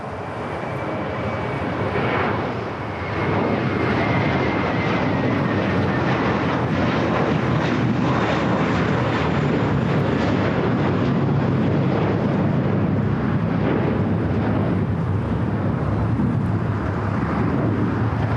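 An A321 jet taking off at LAX, bound for JFK, roars loud and steady from near to mid distance, a broad engine rumble with a faint rising whine, rushing on alone without talk for the whole stretch.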